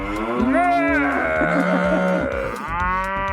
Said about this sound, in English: had like an angry cow. is a hungry cow.